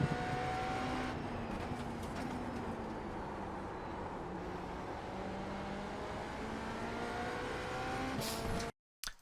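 GTP prototype race car in the iRacing sim at Watkins Glen, engine roaring steadily at full speed with rising and falling pitch through the corners, loud and continuous before a brief cutout near the end.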